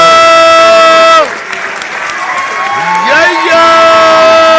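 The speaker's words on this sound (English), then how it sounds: "Big round of applause for our" Crowd at a chess club event breaks into applause and cheering with whoops, after a loud sustained tone cuts off; voices shout over the clapping.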